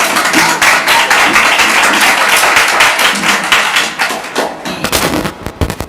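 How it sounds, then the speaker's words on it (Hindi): A studio audience at a Hindi quiz show claps to welcome guests, producing dense, loud, sustained applause that thins into scattered claps toward the end. "ताली बजा के स्वागत करिए।"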